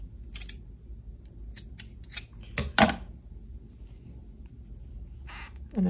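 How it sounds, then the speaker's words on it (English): Scissors snip yarn while finishing a crochet square for a heart bucket hat, giving a few sharp close clicks and cuts in near silence. "I just grab my scissors."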